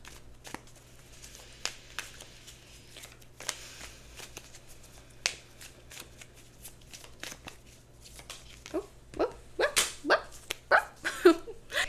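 Tarot cards are shuffled and one is pulled, soft riffling and taps early on, then a quick run of sharper card snaps near the end, close and moderately quiet; a dog barks faintly in the background.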